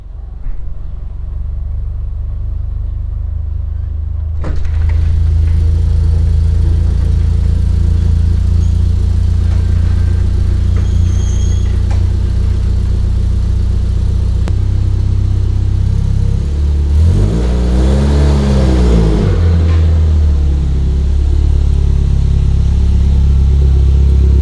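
A FC Mazda RX7 GT-style car being driven, its engine a loud steady drone with one brief revving swell late on, heard from close by.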